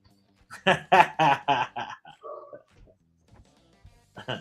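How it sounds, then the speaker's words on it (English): A dog barks in a quick run of about six loud, sharp barks, followed by softer yelps and whines, then a final short burst of barking, with no other sound between them. "Y'all hear that dog?"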